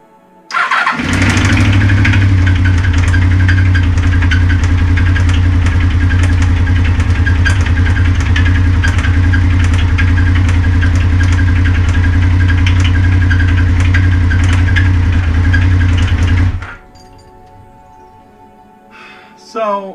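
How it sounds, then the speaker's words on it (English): A motorcycle engine with a possible bad connecting rod starts up and runs loud and steady for about fifteen seconds with a rough, knocking undertone, then cuts off abruptly, leaving quiet background noise. "this is what the bike sounds like"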